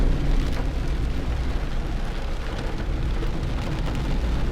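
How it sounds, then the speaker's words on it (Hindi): Heavy rain pouring steadily on a trip in Daringbadi, a loud continuous dense hiss with no pauses and no voices. "पूरा जोरदार बारिश हो रहा है।"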